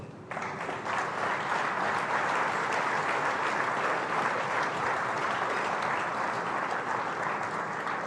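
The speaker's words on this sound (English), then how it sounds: "A round of applause, please" Sustained audience applause after a business talk in Nigeria, a dense, even roar of many hands clapping alone without speech from start to end.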